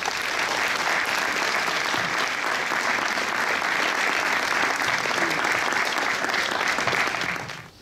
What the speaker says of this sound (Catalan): Un aplaudiment per Francesc.